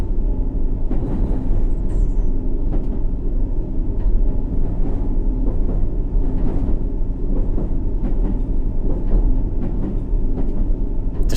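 London Underground D-stock train running on the District Line in a subway simulator, a loud steady low rumble of motors and wheels with repeated clicks and clunks of rail joints, no voices.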